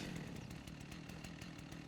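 Chainsaw cutting into a tree resource node in the video game Rust on console, a steady buzzing engine whine running continuously without a break.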